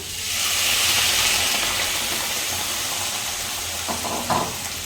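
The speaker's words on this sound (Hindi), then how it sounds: "एबे हमें टिके पानी दे देबा।" Water added to a pan of Odia raw mango chutney sets off a loud hissing sizzle that swells at once, then settles into a steady bubbling simmer.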